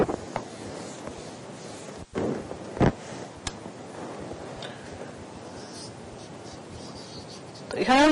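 Writing on a board during a fifth-grade maths lesson on area: steady scratchy strokes at moderate loudness, broken by short pauses and a few sharper taps, with no one speaking.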